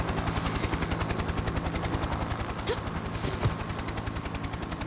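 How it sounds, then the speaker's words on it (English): Helicopter in a video game, a rapid, steady rotor chop thudding evenly throughout with dense rumbling noise, loud and close, and a couple of faint brief tones passing over it. "Also another helicopter."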